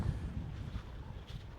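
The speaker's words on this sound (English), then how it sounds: "Yeah, it's windy. It is very windy." Strong wind buffets the microphone at a coastal lookout, a low, rumbling gusty roar that surges and eases throughout with no voices.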